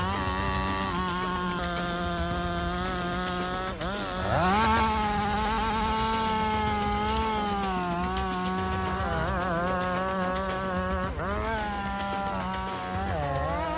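A Stihl MS 500i chainsaw cutting through a leaning tree, its engine holding a steady high-pitched whine with brief dips and surges in revs as the chain bites into the wood.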